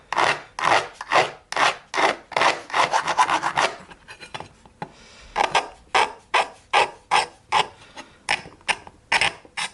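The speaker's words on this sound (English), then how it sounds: "just take the burr off this back edge." File rasping the burr off the back edge of a drilled hole in a rail: rhythmic back-and-forth strokes, about two a second, close and loud, with a short pause in the middle.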